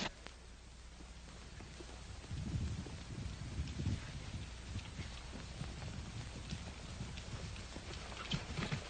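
Hooves clip-clop at a steady walking pace over a soft background of rain-like patter and rumble, with no voices.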